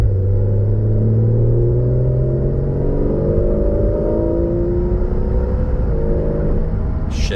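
A 2016 Porsche 911 Carrera on a test drive pulls hard under acceleration, its loud, steady engine note climbing in pitch through the gears with a shift near the end, close and continuous with no talking.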